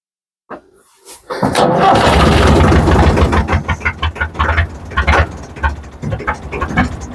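An old diesel tractor engine cranks after glow-plug heating, then catches and runs, loud and close, with a rough, uneven chugging rhythm and no talk over it.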